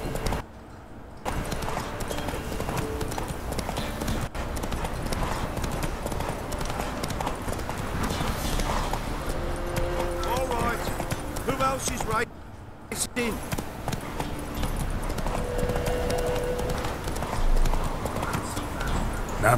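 Roach the horse gallops in The Witcher 3, a steady rapid clip-clop of hooves running almost throughout with brief breaks, loud and close, with game voices talking over it.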